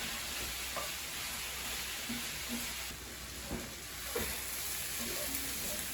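Onion frying in a pan as the first step of a ratatouille, a steady soft sizzle running the whole time with occasional faint stirring scrapes, close and fairly quiet.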